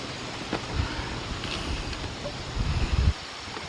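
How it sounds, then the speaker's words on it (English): Gusting wind buffets a sailboat on a windy day, a steady broadband rush over the microphone with heavier low rumbles swelling near the end and no talking. "today is a kind of a windy day"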